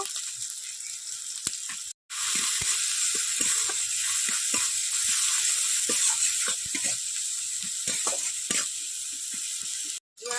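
Turmeric and chili powder sizzling steadily in hot oil in a pan for Bengali cauliflower dal, a loud continuous fry with irregular clicks and scrapes of stirring, cut by two brief pauses.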